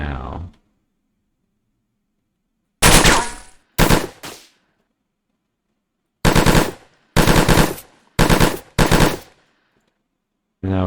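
Video game gunfire aimed at an AI opponent, heard as loud bursts of rapid automatic shots: one long burst, then a short one, then four bursts in quick succession separated by brief silences.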